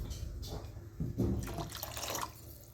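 Water poured into a pot of thick sambar thickened with gram flour, a soft, close splashing trickle lasting a couple of seconds, quiet and alone.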